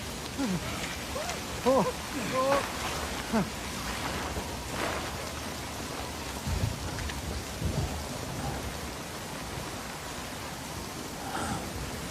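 A pitiless thunderstorm with pelting rain: a steady, dense hiss of heavy rainfall fills the scene, broken by low rolling rumbles of thunder, with faint vocal fragments surfacing now and then.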